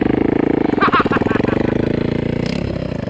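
A dirt bike engine in a video game sputters and struggles to start, giving a steady low rumble with rough pulsing. A voice talks over it throughout.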